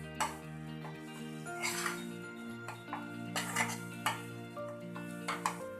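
Spoon stirring coconut-peanut powder into masala in a pan for stuffed tinda sabji, with scattered soft scrapes and light clinks over steady background music.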